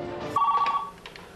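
A cell phone rings once with a short, bright electronic trill that cuts off quickly, heard fairly close with no talking over it.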